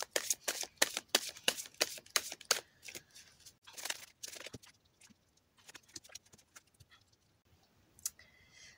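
Tarot cards are shuffled by hand in quick, crisp bursts of riffling and flicking, close and fairly loud at first, then tapering to sparse, faint shuffles and a final brief flurry.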